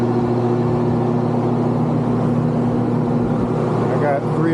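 Condenser fan motors on top of a Trane CGAM100 chiller, three of four running and one unplugged, make a loud, constant whirring roar with steady humming tones and no break.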